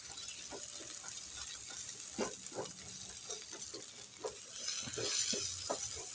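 Eggs fry and get stirred in a pan for a restaurant-style chicken and vegetable fried rice, giving a soft, steady sizzle broken by scattered scraping and tapping of the utensil, fairly faint and without talk.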